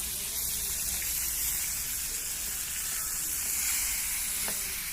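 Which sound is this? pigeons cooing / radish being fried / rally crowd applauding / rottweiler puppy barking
radish being fried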